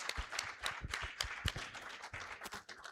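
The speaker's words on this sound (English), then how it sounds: "Please, let's clap for Dr. Mulwa." A conference audience at a health integration summit in Kenya claps in thanks for Dr. Mulwa at the closing session. Scattered, uneven handclaps from a small crowd sound fairly faint and distant in a large room.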